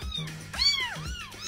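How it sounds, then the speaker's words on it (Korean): A cat lets out two distinct meows in quick succession, each rising and falling in pitch, heard close and clear against a quiet background. "불쌍한 고양이."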